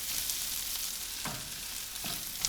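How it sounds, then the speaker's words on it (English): Sambal goreng fries in a pan with a dense, loud, continuous sizzle, broken by a couple of brief scraping stirs; no voices. "that needs to fry just a little bit"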